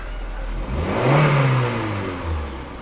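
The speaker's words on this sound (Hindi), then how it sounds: "गाड़ी भी स्टार्ट हो गई है" A Honda Amaze petrol car engine runs just after starting, its revs rising then settling into a steady idle hum, close and clear with no talking.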